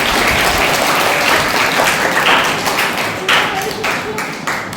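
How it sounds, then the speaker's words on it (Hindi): Loud, steady applause from a gathered audience at a children's summer camp opening event, with dense continuous clapping filling the whole stretch and tapering only slightly near the end, no speech over it. "उनके लिए भी जोरदार तालियां बजाएंगे"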